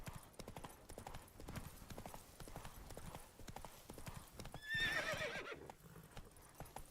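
Steady clip-clop of horse hooves throughout, with a loud whinny rising near the middle, set against background noise from the video game The Witcher 3: Wild Hunt – Blood and Wine.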